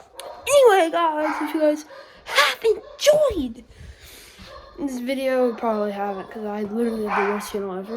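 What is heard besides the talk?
dogs barking and whimpering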